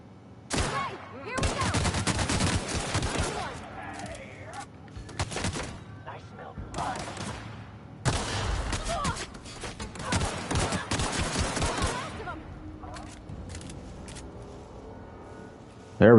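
Gunfire in The Outer Worlds, loud bursts of rapid automatic shots in several volleys separated by short pauses, with a final sharp burst at the end.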